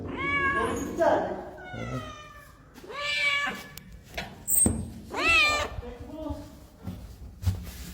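A house cat meows several times, drawn-out and fairly close, with a person's voice speaking softly between the calls.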